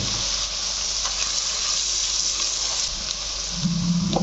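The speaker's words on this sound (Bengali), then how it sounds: "পেঁয়াজটা আমি 3 মিনিট কষিয়ে নিলাম।" Onion with turmeric and salt fries in a pan, a continuous close sizzle with faint stirring clicks, ending in a low rumble of movement.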